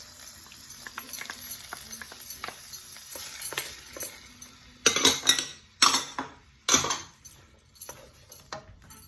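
Vegetables (corn, string beans and carrots) being stirred in a pan, with a run of close scraping and clattering utensil strokes against the pan over a soft background sizzle, the stirring growing louder and sharper toward the end.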